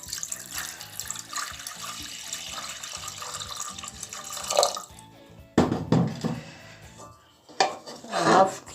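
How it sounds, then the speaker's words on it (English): Water pours into a clean cooking pot, a steady splashing stream that stops, then resumes in two shorter, louder bursts with brief pauses between them. "First I will add water to the pot."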